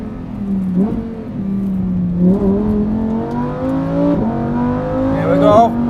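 A Lamborghini Huracan EVO accelerating hard down a race track's main straight, its engine loud and rising in pitch through several upshifts, with brief dips at each gear change and a voice talking over it.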